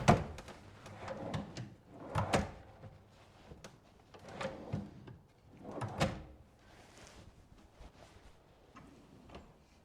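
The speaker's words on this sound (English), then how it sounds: "Sliding it home is always a little nerve-wracking to make sure that I cut everything exactly the right dimensions and everything slides as smoothly as possible" A wooden drawer box slid into a custom-built dresser, giving several soft thumps and scraping slides spread over ten seconds, with quiet taps between them and no talking.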